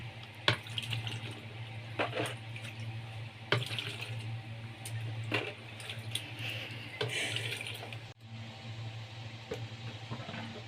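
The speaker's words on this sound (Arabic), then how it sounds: "هنزل بقى بالميه عليه" Water is poured over salted lemons, a continuous running, splashing flow close by with small clinks and drips, over a low steady background hum.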